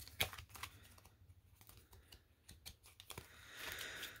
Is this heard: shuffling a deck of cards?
yes